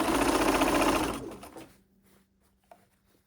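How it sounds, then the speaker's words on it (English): A sewing machine stitches a blouse in one loud, fast, steady run of about a second and a half, then slows and stops, leaving a faint hum and a small click. "And then I'm going to sew."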